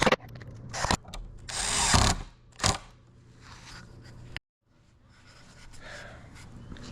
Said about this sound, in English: to drill the holes so that the wood didn't split